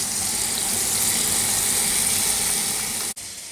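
Water poured steadily into a tumbler holding spent .38 Special and 9mm shell casings and spent primers, a continuous close hiss and splash that stops abruptly near the end.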